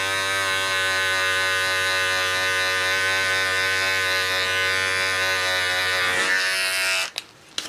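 Electric hair clippers drone in a steady, close, tonal buzz through a buzz cut, running unbroken for about six seconds before the hum shifts and cuts off into short handling noises.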